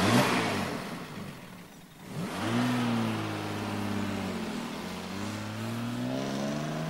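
A car is driven through town, its engine revving up after a brief lull, then holding a steady mid-pitched drone with gear-like pitch shifts, close and fairly loud.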